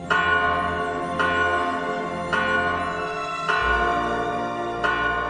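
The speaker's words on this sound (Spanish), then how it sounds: "las campanas de la iglesia comenzaron a sonar solas" Church bells ring out in slow, regular strokes, each rich peal decaying into the next, about five strikes with no voices.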